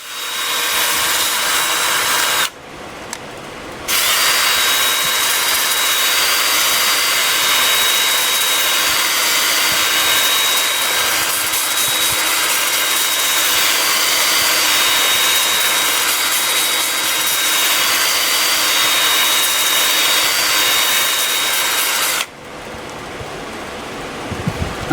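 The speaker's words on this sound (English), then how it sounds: "I have the lathe spinning forward at 249 RPM." A wood lathe spins an olive wood bowl at 249 RPM while it is sanded with 120 grit paper, a loud steady whirring hiss that runs throughout and cuts out briefly near the start and again at the end.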